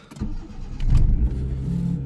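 A Proton 1.5 SE car engine cranks and catches, rising into a loud, close idle that holds steady at fairly high revs.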